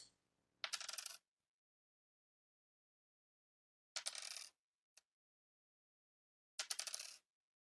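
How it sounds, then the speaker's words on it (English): A four-sided die clatters on a tabletop in three separate rolls, each a short burst of bright clacks followed by silence, with a single faint tick between the second and third. "I hear the clacking of D4"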